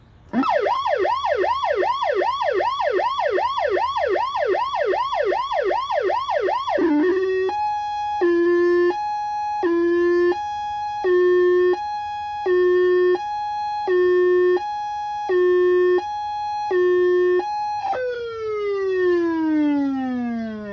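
Federal Interceptor PA-20A Series 2D electronic siren running a fast rising and falling yelp, then switching to an alternating high-low two-tone pattern before winding down, loud and close with no talking.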